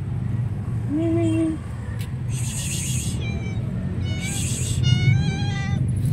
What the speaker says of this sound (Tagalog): Ito, may pusa pa rito.